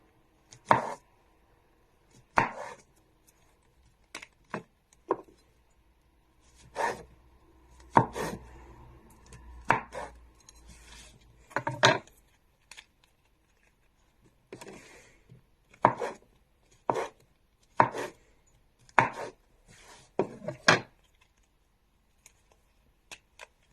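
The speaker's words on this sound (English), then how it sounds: "So I have cut and sliced the stems also into 3s" A knife chops and slices mushroom stems on a board, sharp, close, distinct thuds coming singly and in quick runs with short pauses between.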